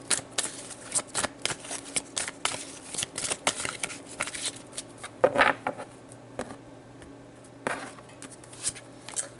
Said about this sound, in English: let's pull a romance angel card to get more information.